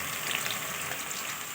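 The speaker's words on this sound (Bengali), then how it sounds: "চিকেন ভাজা হচ্ছে।" Chicken pieces frying in hot oil for chili chicken make a steady, dense sizzle that crackles evenly throughout, close up with no speech.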